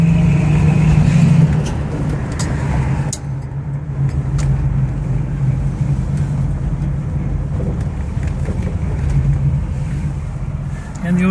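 A 1966 Chevy Nova SS with an automatic transmission and Holley four-barrel carburetor upshifts while driving, its steady engine drone dropping in pitch after the shift, with constant road and wind noise throughout.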